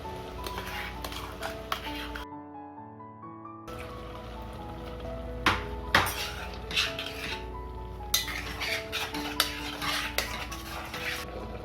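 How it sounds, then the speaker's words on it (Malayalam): Ground coconut being stirred into a tamarind curry in a pan, with scattered clinks and scrapes of a spoon against metal over a soft bubbling background and a brief near-silent gap. "ഇനി അരച്ച് വെച്ച തേങ്ങ ചേർത്ത് മിക്സ് ചെയ്യാം"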